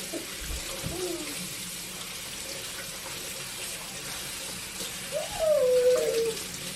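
A kitchen tap runs as powder-free latex gloves are rinsed under it, a steady, even hiss of water that swells slightly louder near the end, with no talking.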